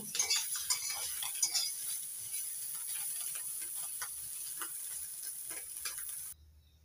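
Small chuno fish sizzle in hot oil in a kadai over a village-style fire. A utensil stirs the fish and lifts them out, scraping and clinking lightly against the pan, and the steady frying hiss carries on until it cuts off near the end.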